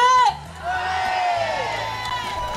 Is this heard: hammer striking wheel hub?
no